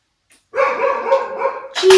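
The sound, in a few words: dogs barking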